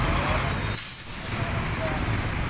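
A free-ride city bus passing on a street, its air brakes releasing a sharp hiss above the rumbling engine and road noise, with people talking nearby.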